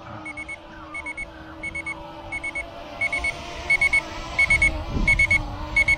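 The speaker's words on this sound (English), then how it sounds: "it's saying low power alarm on the bottom hand of the bottom corner of the screen there" Low power alarm on a YLR/C S188 GPS drone's controller, sounding as repeated short electronic double beeps in a regular rhythm, loud and close over a faint background hum.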